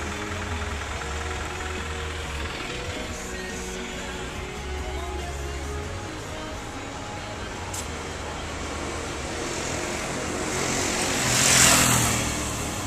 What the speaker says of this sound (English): we're just stuck in traffic, man